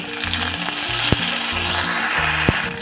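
Slit green chillies and curry leaves dropped into hot oil with cumin and mustard seeds for a tondli stir-fry make a loud, close, steady sizzle with a few sharp ladle taps, no voices.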